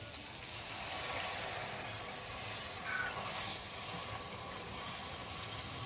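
Water poured steadily into a simmering dal gravy, a continuous hiss and sizzle of liquid hitting the hot pan, close and even throughout.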